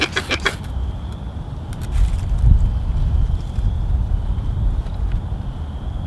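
Outdoor wind at a woodland bushcraft camp, a low rumbling buffet of gusts against the microphone that swells in the middle and stays steady, with faint clicks at the start.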